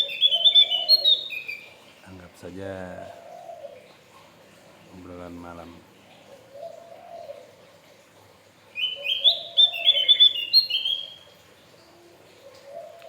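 A Javan opior, a garden bird, sings at night in short high chirping phrases separated by pauses, fairly clear over a quiet background, while someone talks at length between and under the calls.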